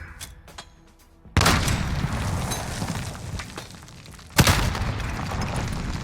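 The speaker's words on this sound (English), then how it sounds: "you're just going to want to throw the nade over this satellite dish that's in front of me" A grenade goes off in a first-person shooter match on a map with stairs and a satellite dish, starting with faint game noise. Then come two loud, sudden booming blasts, the first near 1.3 seconds and the second about three seconds later, each followed by a rumbling tail.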